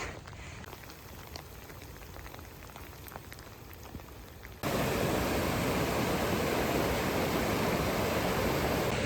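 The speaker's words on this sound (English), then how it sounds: "Yet another river crossing." A creek rushes at a river crossing on the John Muir Trail, first a softer trickle under light rain, then a sudden loud, dense wash of flowing water filling the rest, close by and steady.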